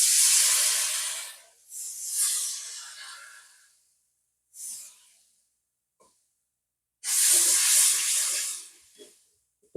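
Water poured onto chili, cumin and coriander powder in a hot pan with potatoes for a rohu fish curry bursts into loud steamy hissing in several surges, fading between bursts, with no voices.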